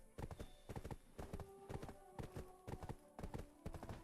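Horse hooves clip-clopping in the video game Black Desert Online, a quick steady rhythm of sharp close hoofbeats in paired bursts, carrying on without a break.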